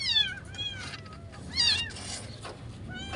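Abandoned rescued kittens mew repeatedly in thin, high-pitched cries, several overlapping calls close by over a quiet indoor background during feeding.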